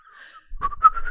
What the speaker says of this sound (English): Whistling is all that suck and blow.